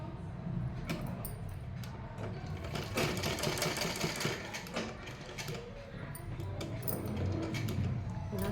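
Sewing machine stitching cloth, a steady close mechanical whir with fast rhythmic needle ticking, running continuously at an even moderate volume.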